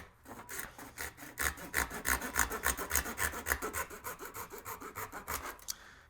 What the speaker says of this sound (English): since these saws cut on the pull, I just like to start on a pull